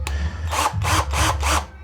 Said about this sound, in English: Let's take the drill.